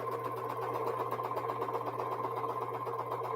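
A sewing machine stitching jelly roll quilt star points runs in one steady, continuous hum with a low motor drone and an even needle rattle, unbroken from start to end.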